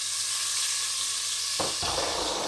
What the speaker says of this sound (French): on va profiter de cette graisse pour faire juste revenir nos légumes là